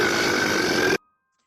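A single loud, sustained burp lasting about a second, close and alone, ending abruptly into silence.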